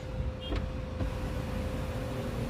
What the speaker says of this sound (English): Close sunroof. Closing the sunroof.